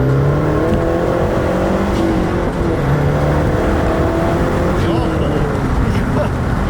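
Mazdaspeed 3 hot hatch under hard acceleration, a loud steady engine roar building boost from inside the cabin for the whole stretch, with a person talking over it.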